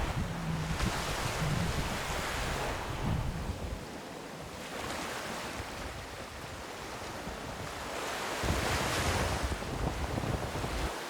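Surf on a wide tidal beach in Scotland near North Berwick at low tide sounds as broad washes of waves swelling and receding in long cycles, mixed with gusting wind rumbling on the microphone, with no voices.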